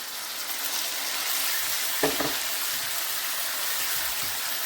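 Okra frying in a pan as a spoonful of yogurt goes in, a steady soft sizzle with a brief sharper burst of spitting around the addition, nearby and without talk.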